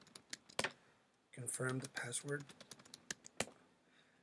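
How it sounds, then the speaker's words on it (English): Keys clacking on a computer keyboard as a password is entered during a Linux server setup, in quick scattered taps with someone talking in between. "we'll just type in a password right now"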